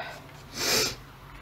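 One short, breathy sniffle close to the microphone, a quick airy intake through the nose in an otherwise quiet room.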